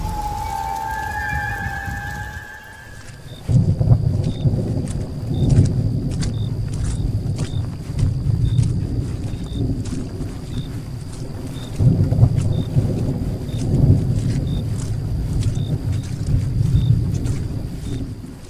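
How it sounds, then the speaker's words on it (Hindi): Heavy rain and thunder: after a brief tonal intro, a loud, dense downpour hisses continuously with deep rolling thunder swelling in repeated waves, while a faint high electronic beep pulses regularly in the background. "बारिश की आवाज़ और भी भारी हो गई।"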